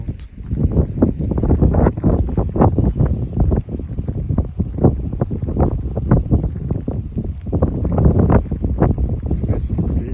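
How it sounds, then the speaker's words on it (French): A strong downburst gust from a passing squall line buffets the microphone in a continuous roaring rush. The wind surges and pulses loudly throughout, with faint voices under it. "rafale descendante"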